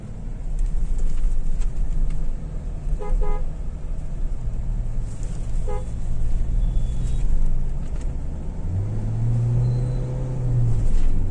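A KIA EV6 electric car driving on a road, with a steady broad rumble of tyre and traffic noise throughout, a couple of short horn toots and a passing vehicle near the end.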